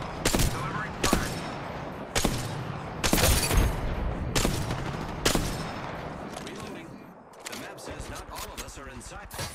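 Rapid bursts of automatic gunfire in the Apex Legends battle royale game, loud and close, in repeated volleys with brief pauses, mixed with game sound effects.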